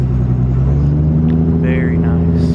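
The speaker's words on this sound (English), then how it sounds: "Here comes a couple of my dream cars, the Toyota Supra." Steady, loud low rumble of a Toyota Supra sports car rolling past at a Houston cars-and-coffee meet, close by and continuous, with faint higher engine tones on top.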